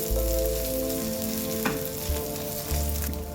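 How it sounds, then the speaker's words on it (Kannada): Curry leaves and 8-10 byadgi chillies frying in a pan for a Mangalore-style chicken sukka masala, giving a steady, close sizzle with faint stirring and no talk. "ಈಗ ನಾವು ಇದಕ್ಕೆ ಸ್ವಲ್ಪ ಕರಿಬೇವು ಸೊಪ್ಪು ಸೇರಿಸಿ ಇದನ್ನು ಕೂಡ ಅದರೊಟ್ಟಿಗೆ ಫ್ರೈ ಮಾಡಬೇಕು"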